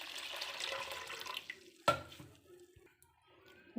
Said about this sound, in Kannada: ಈಗ ನಾನು ನೀರು ಹಾಕ್ಕೊತಾ ಇದ್ದೀನಿ